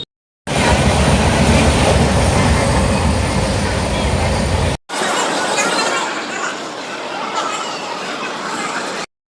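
A train pulls into a railway station in India, bound for Kolkata, with a loud, continuous rumbling roar of wheels and carriages. A brief cut is followed by a slightly softer, busier rolling noise.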